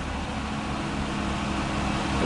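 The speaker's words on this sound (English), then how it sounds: "Give it some gas so the choke shuts off." A 1980s Chevrolet Caprice engine runs right after a blip of throttle to shut off the choke. A steady, fairly quiet mechanical drone holds evenly through the short stretch and swells slightly at the end.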